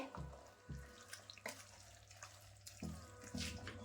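Half a glass of water poured into a mixer jar, short faint trickling and splashing bursts with brief pauses, close and quiet, no talk.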